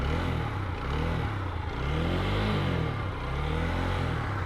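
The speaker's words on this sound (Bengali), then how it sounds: "চলেন ইঞ্জিনের সাউন্ড সাউন্ডটা একটা আপনাদেরকে শোনাই" A TVS Apache RTR 4V motorcycle engine, freshly rebuilt, runs close by with a steady, loud mechanical rumble and slight swells in revs, heard alone without talk.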